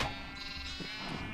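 A sheep in a blocky farming game gives one sustained, quavering bleat, close and clear, with no voices over it.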